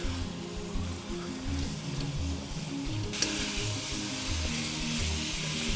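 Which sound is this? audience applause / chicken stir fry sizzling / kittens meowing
chicken stir fry sizzling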